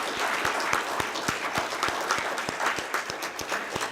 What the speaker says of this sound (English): So let's give them a round of applause for coming up here and sharing their ideas.